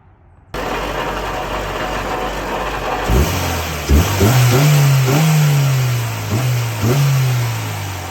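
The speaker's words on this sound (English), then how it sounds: "This is just me revving with the K&N filter with the cover and now with the cover off" A car engine fitted with a K&N air filter, cover off, idles and then revs up several times in quick succession, the intake roar rising and falling loudly and close by.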